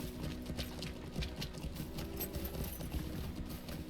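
Horse hooves clip-clop in The Lord of the Rings Online as mounted riders travel, a quick, steady run of close, rhythmic hoofbeats that continues without a break, with no talk over it.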